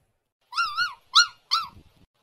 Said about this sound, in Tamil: நாய்க்குட்டி இப்படி கத்தாத